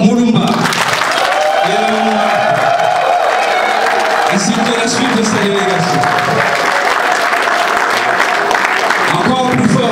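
Crowd applause and cheering for President Etienne Tshisekedi at a political gathering, loud and continuous, with whoops, while someone speaks in French over the noise.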